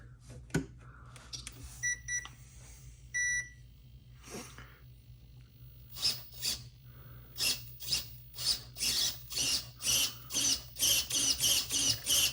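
A 35kg DC steering servo motor runs in short bursts, a series of sharp whirring pulses that come faster and louder toward the end over a low steady hum.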